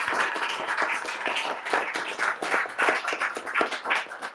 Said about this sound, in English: So round of applause for John Geishiker for supporting the plaintiffs there